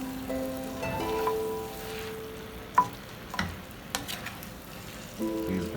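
Food is mixed in a frying pan, a light sizzle running beneath a few scattered clinks and scrapes of the utensil, with faint tonal hums coming and going in the background.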